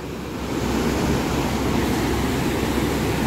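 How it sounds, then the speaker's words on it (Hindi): A flooded river in Kullu-Mandi rushes past a collapsed bridge in a loud, steady roar of turbulent water that swells slightly after the opening half second and holds constant, with no voices. "नदी का बहाव कुछ ऐसा भयानक रौद्र रूप नदी ने ले लिया है"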